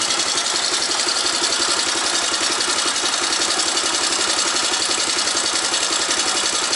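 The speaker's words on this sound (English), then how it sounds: "it's a Yamaha Raptor" A Yamaha Raptor four-wheeler ATV engine idles steadily, a close, even rumble with a fast regular pulse that holds throughout without any talking.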